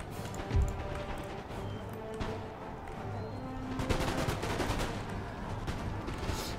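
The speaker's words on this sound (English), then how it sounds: "So we're firing. Returning fire on the Marines at point blank range." Musket volleys in the video game Empire Total War, a battle with troops returning fire at point-blank range on Marines at a barricade, with repeated crackling gunshots and rolling fusillades over steady battlefield background noise.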